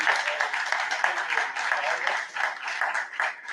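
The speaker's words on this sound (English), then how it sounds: "So big round of applause for Brian" A meetup audience gives a sustained round of applause for a panel introducer, dense steady clapping from many hands filling the room throughout.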